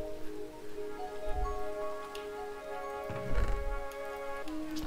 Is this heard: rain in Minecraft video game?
yes